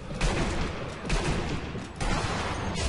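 Dense gunfire in the video game Absturz Elite V2, loud and close, coming as a continuous rattling fusillade with a few sharper bursts across a few seconds, and no voices over it.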